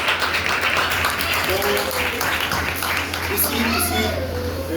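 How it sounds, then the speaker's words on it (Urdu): Applause from a church congregation giving thanks to God at a thanksgiving worship meeting, a steady dense wash of clapping with voices talking and calling out over it. "زوردار تالیاں بجائیں خدا کے شکر کے لیے."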